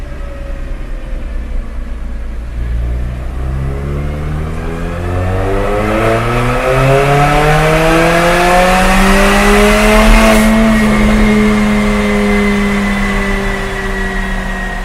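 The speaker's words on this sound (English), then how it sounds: "we just completed the test of the Armytrix turbo back exhaust" A Mercedes-Benz CLA45 AMG with an Armytrix catless stainless-steel turbo-back Valvetronic exhaust revs loudly and steadily through the range, its engine note climbing in pitch and swelling toward a peak before easing slightly, with no talking.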